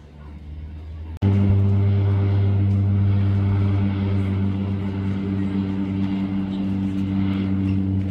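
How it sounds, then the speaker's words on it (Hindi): A helicopter taking off or landing over water in Vancouver: a loud, steady engine and rotor drone that starts abruptly and then holds close and continuous, with no talk. "The best thing that you can spot in here is helicopters taking of and landing over water."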